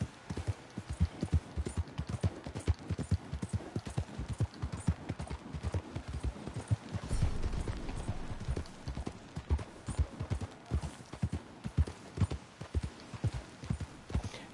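Steady rhythmic clip-clop of horse hooves trotting in Red Dead Redemption 2, quiet and continuous, with a brief louder thud midway.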